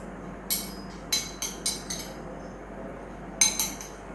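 A metal spoon stirs cut mango pieces into homemade mango ice cream mix in a bowl, giving a run of sharp clinks and scrapes in short bursts, close and fairly quiet, with no talking.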